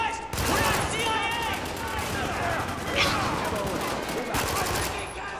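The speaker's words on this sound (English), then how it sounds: "we're taking some heavy fire here!" Heavy gunfire in the video game Spec Ops: The Line, dense rattling bursts of automatic weapons and loud shots firing continuously, with voices shouting over the battle.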